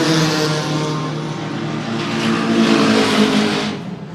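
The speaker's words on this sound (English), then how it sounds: "Two Siroccos onto the short straight." Two Volkswagen Scirocco race cars on a racetrack's short straight, their engines roaring loudly and close with a steady droning howl that swells and then fades as they pass.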